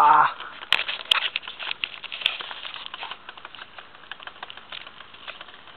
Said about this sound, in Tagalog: Ayun yung ulan, no?